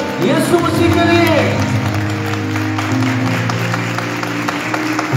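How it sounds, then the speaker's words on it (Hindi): Congregation clapping during a Presbyterian church praise and worship service in Rawalpindi, steady applause from a crowd with voices and music running through it. "जोर से तालियां बजाएं खुदा के बड़े यीशु मसीह के लिए"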